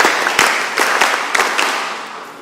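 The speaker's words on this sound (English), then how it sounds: "give yourselves rounds of applause" Audience at a mentorship session clapping for themselves, a dense patter of hands with a few sharp louder accents, steady for a couple of seconds and fading slightly toward the end.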